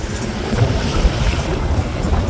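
Sea waves wash along the shoreline of a beach resort with cottages, a steady, loud rushing surge heard up close, mixed with heavy wind buffeting the microphone and no voices.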